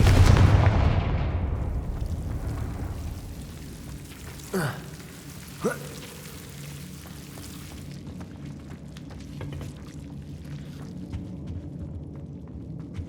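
Two sharp spell blasts from Confringo burst out in the Hogwarts Legacy video game, each a crackling explosive whoosh following a loud opening rumble, then the scene settles into a low ambient hum with faint clicks.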